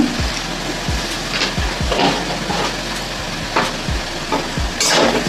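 Potatoes sizzle in a pan while a utensil repeatedly scrapes and stirs them, the strokes coming in an irregular rhythm over the steady frying hiss.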